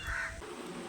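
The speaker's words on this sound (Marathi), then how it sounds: "तिथून कावळा ओरडते" A crow gives a single short, harsh caw at moderate distance, followed by quiet background ambience.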